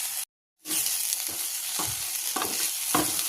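Okra fries in a pan, a steady crackling sizzle with repeated scraping stirs, close up; a brief dropout of silence comes near the start.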